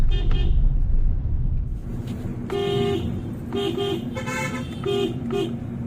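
A car horn sounds on a narrow hairpin bend of a mountain road, a few short toots repeated in a broken pattern over a steady engine and road rumble, fairly close and loud.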